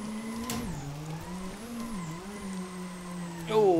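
A small-turbo four-cylinder car drifts in Assetto Corsa, its steady engine drone holding a near-constant pitch with a brief dip and a tire squeal flaring loudly at the end.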